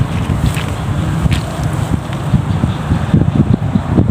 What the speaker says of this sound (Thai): ลมเย็นเย็น